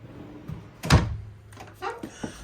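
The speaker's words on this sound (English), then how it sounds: "There's also these little pull-out drawers right there as well, which are really nice" Compact pull-out drawer in the pantry of a 2022 Cottage 40CCK park model RV sliding shut with one solid thunk near the middle, followed by softer knocks and faint movement noises.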